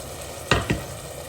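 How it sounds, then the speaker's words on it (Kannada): Ground masala spice paste added to rice and oil in a pan, a soft background sizzle with two sharp stirring scrapes close together mid-clip, no voices. "ಮಸಾಲೆ ಸ್ವಲ್ಪ ಹಸಿ ವಾಸನೆ ಹೋಗುವವರೆಗೆ ಹುರ್ಕೋಬೇಕು"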